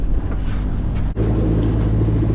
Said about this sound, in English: We're at the engine nearly on full blast, and we're just about doing 2 knots at the moment.